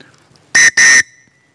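A small whistle built into a camping fire steel stick gives two sharp, loud, shrill blasts in quick succession, the second slightly longer, in otherwise near silence.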